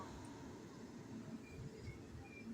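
A Puri–Surat superfast express train rolls through Dungargarh station without stopping, at steady speed, with a continuous low rumble and rattle of wheels on track and faint squeaks above it.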